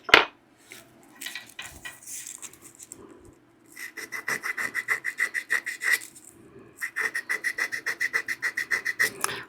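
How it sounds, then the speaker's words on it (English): Rhythmic strokes of sandpaper across the wooden stummel of a scorched tobacco pipe, a steady scratchy back-and-forth rasp in quick bursts, with a brief pause partway through, close and fairly loud with no talking. "So the only way I can handle that is to do a little sanding."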